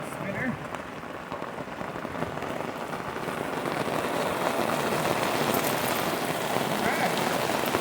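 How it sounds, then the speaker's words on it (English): Heavy pouring rain falls steadily on water during a fishing outing, a dense continuous hiss that swells slightly louder after the first few seconds and fills the whole clip. "In the pouring rain."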